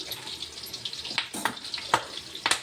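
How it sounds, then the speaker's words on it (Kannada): Chicken kebab pieces fry in hot oil with curry leaves, giving a steady bright sizzle broken by a few sharper crackles and pops. "ನೋಡಿರಿ ಈಗ ಫ್ರೈ ಆಗತ್ತವಲ್ಲ ರೀ"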